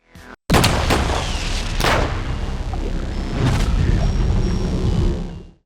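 A point-blank gunshot in the slasher film Gutterballs: a sharp blast after a brief gap, then a long loud roaring tail with further booming hits, dense and close.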